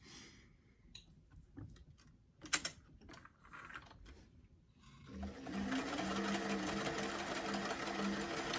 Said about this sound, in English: I'm sewing the top of the sleeve or the over sleeve edge.